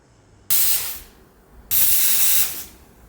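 A pressure cooker lets out two loud, sharp bursts of hissing steam, each lasting about a second, with quiet between them.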